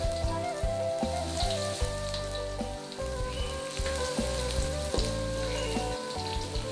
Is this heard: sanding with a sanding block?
no